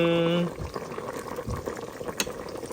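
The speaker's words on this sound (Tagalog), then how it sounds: "Kumukulo na siya." Fish sinigang soup with kamias bubbling and simmering in a pot, soft irregular blips and gurgles after a brief tonal hum at the start.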